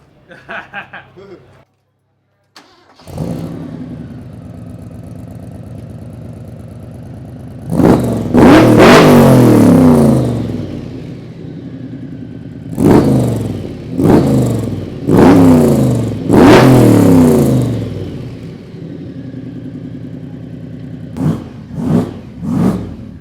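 A powerful Mk4 Toyota Supra engine revs hard in several loud bursts, roaring up and dropping back, with people talking briefly at the start.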